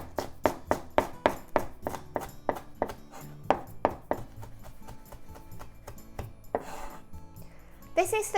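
A knife cuts thin slices on a board for a garnish, giving a rapid series of crisp, evenly spaced chops that thin out into lighter taps, followed by a brief clatter of dishes near the end.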